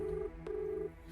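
A telephone being dialed, steady electronic tones sounding in two short bursts separated by a brief click, close and moderately quiet.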